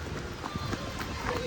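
A group of people jog through heavy rain in quick, close, steady footfalls, blended with the constant hiss of the downpour.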